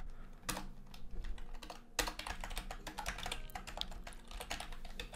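Fast, continuous typing on a computer keyboard rattles close by during a Minecraft survival game, one sharp keystroke first and then a dense run of clattering keys.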